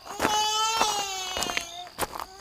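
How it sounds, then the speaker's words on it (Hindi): An infant cries at night near a pond in a drawn-out, wavering wail with a couple of short breaks, heard fairly close and alone. "ऐसा लग रहा है जैसे कोई बच्चा रो रहा हो"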